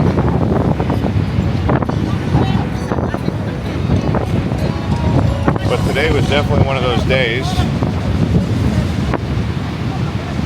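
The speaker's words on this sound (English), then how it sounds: "the ocean was raging. The ocean was way up there." Ocean waves roll in at Kuta Beach, Bali, with strong wind buffeting the microphone in a constant roar, while someone talks over the surf throughout.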